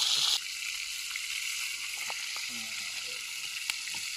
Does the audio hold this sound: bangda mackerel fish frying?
yes